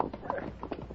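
Horse hooves clip-clop on a trail in a short run of hollow knocks, several quick uneven beats that sound close and moderately loud, with no talk over them.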